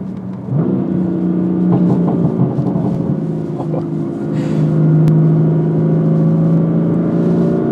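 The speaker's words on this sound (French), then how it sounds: "C'est le bruit du moteur" A loud BMW M4 engine, tuned to 560 hp, runs and revs steadily, its droning tone rising in pitch partway through, holding close and strong throughout.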